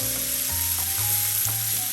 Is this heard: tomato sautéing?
yes